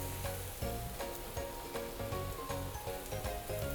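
Mushrooms, greens, peppers and onions sautéing in a pan: a continuous busy sizzle with crackling pops, steady and close, no talk.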